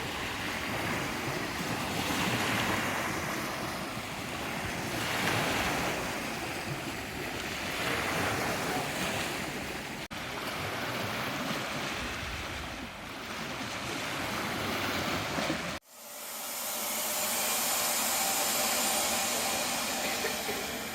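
Waves and wind on Lake Michigan, a loud, continuous wash of surf with heavy wind buffeting the microphone and a brief dropout before the roar resumes.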